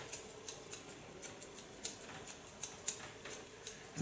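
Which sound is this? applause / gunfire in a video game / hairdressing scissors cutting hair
hairdressing scissors cutting hair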